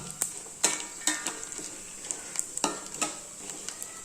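Stingray curry being stirred as it fries in a pan: repeated metallic scrapes and clinks of a utensil against the pan over a steady sizzle, close and clear, with no talking.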